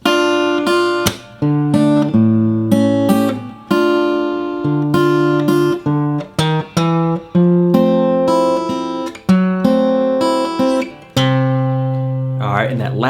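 Line 2 of a song played on guitar: a steady string of plucked notes and chords in a blues rhythm, heard alone and up close.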